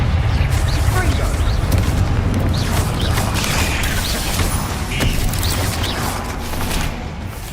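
Confringo fire spells in the video game Hogwarts Legacy go off in a dense string of booming blasts and crackling impacts that run together with combat effects, loud and continuous, with a player's voice calling out over the fight.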